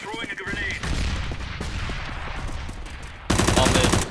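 Rapid automatic gunfire sprays through a wall in Counter-Strike on the Inferno map, a dense rattling burst of shots that ends in a sharper, louder volley, with faint voices in the background.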